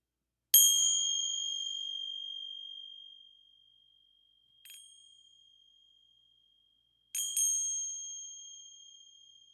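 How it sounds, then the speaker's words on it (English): A bright bell rings out three times, each strike sustaining a clear tone that slowly fades; the last strike comes as a quick double hit. No voices. "On the first bell ring,"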